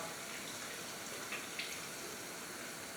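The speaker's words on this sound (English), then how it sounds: "Warm water." Warm water runs steadily from a bathroom tap, a soft continuous hiss at low volume, with a couple of faint brief splashes partway through.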